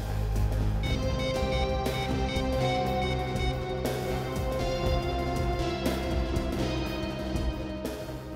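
A landline telephone rings in a police office, a tonal electronic ring repeating about every two seconds over a steady backdrop.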